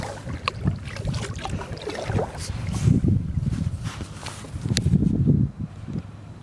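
A kayak moves on a dead calm sea off the Goodwin Sands near Deal, with soft paddle splashes and water sloshing in irregular strokes close by.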